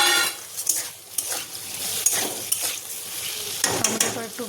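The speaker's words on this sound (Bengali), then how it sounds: "এই যে টমেটো কেটে রেখেছিলাম দিয়ে দিচ্ছি।" Chopped tomatoes tipped into a pan of browned, frying potatoes for banda gobhi, with a spoon clanking and scraping against the pan over a steady sizzle, close and busy, no talk.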